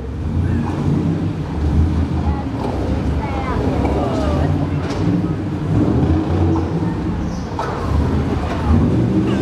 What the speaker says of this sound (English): Nothing better than a V8 sound, is there?